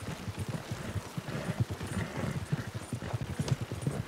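Horse hooves clip-clop steadily in Red Dead Redemption 2, a fast, continuous rhythmic patter of hoofbeats over a soft background hiss with no talk.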